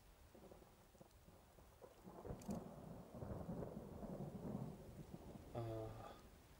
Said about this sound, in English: I love the sound of rain and thunder.